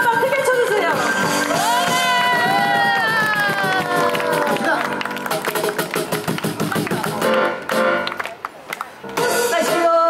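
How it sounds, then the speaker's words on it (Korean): Audience at an outdoor summer concert on Yeongildae Beach clapping along in a steady rhythmic beat after a sustained sung and instrumental passage, the claps fairly close and loud over the fading music. "여러분 즐겁게 박수 한번 크게 쳐주세요."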